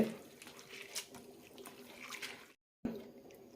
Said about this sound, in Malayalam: രണ്ട് മൂന്ന് പ്രാവശ്യം എല്ലാം കഴുകിയെടുക്കേണ്ടി വരും